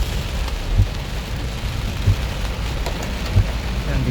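Heavy rain pours steadily during a storm, a dense hiss with a few low thumps. It is loud and continuous, with a vehicle faintly underneath.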